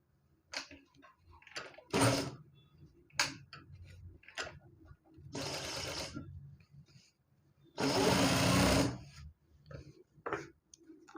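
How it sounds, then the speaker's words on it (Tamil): Domestic sewing machine stitching a puff sleeve piece for a blouse, heard as short bursts of rapid mechanical whirring and ticking separated by pauses, close and fairly quiet, with no talk. "சென்டர் பாயிண்டில் வச்சு அப்படியே ஒரு தையல்"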